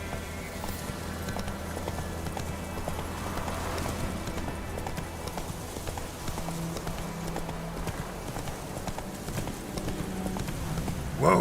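Horse hooves clip-clop steadily in the video game The Witcher 3, a continuous moderately loud trotting rhythm over ambient outdoor game sound.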